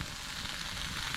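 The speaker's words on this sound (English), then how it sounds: "I've got my greens frying with the garlic." A steady, close sizzle of greens and garlic frying in a pan, a dense crackling hiss that holds even throughout the brief moment.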